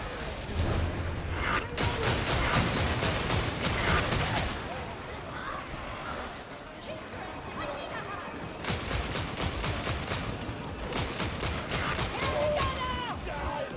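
An enemy gunner in Warhammer 40,000: Darktide fires long rapid bursts of automatic fire, loud and close, in two main stretches over a busy combat background.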